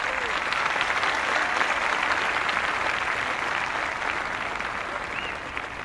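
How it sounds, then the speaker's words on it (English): A large, enthusiastic crowd at a Sri Lanka versus England one-day international cricket match cheers and applauds from the stands, a dense, steady roar of clapping and voices that holds throughout before easing slightly near the end. "There's a buzz, a real buzz coming from the stands."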